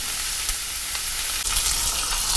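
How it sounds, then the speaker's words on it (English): Thick-sliced homemade maple bourbon bacon frying in a Finex pan, a loud, dense, continuous sizzle heard up close with a few faint pops and no talking. "in our Finex pan and give it a quick cook"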